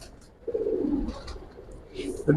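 Giribaz pigeons coo in low, soft, rolling bursts from nearby, with faint voices and light movement in the background.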